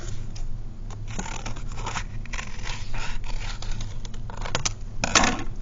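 Scissors snip through paper while a heart shape is cut out, making a run of close, crisp cuts and rustles at a steady, moderate level with a sharper snip near the end.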